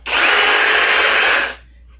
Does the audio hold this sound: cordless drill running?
yes